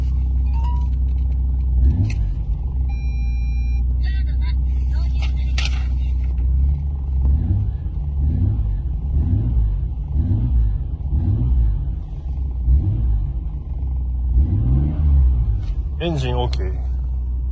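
A Nissan R33 GTR engine idles with a deep, steady rumble close by. Its beat pulses in places, and a person speaks over it now and then.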